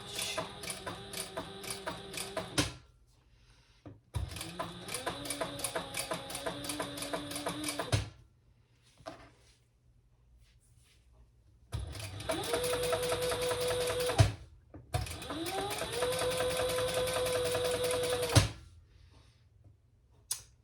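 A sewing machine stitches a bowler hat pattern in four bursts of rapid mechanical whirring and ticking, each a few seconds long, separated by short quiet pauses, close and clear with no talking.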